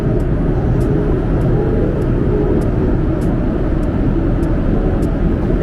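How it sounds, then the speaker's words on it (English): Steady, loud engine roar and rumble inside an airliner cabin at the rear of the plane on a long-haul flight, a constant drone with faint regular ticks above it and no talk. "I'm literally right at the back of the plane."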